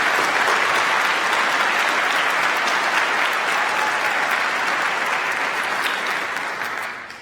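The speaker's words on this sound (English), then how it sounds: "I think that deserves another round of applause for all of our graduates" Large audience applauding graduates at a spring doctoral degree ceremony at Cleveland State University, a long, even roar of many hands clapping that holds steady before tapering off at the end.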